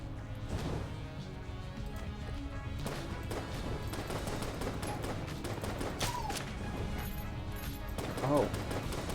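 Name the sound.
gunfire from sniper bullets in the video game Enter the Gungeon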